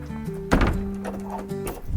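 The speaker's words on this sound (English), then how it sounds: "Joys of old doors and locks." Heavy thud from an old door with a lock at a railway coaling tower, one dull knock midway with a lighter knock near the end, close and moderately loud over a low steady hum.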